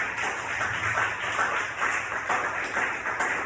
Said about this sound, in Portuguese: Será que você pode aplaudir a presença de Deus?